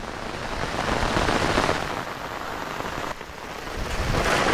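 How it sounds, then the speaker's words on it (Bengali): Heavy rain from Cyclone Remal pours steadily onto an open playing field, a dense, close hiss that stays loud throughout, with a brief dip about two-thirds through before building again. "মাঠের অবস্থাটা দেখো আর বৃষ্টি কেমন হচ্ছে"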